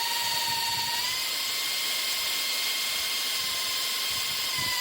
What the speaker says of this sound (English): Let's try it with a 2-inch hole saw.